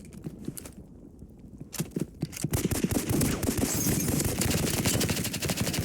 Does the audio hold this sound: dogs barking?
no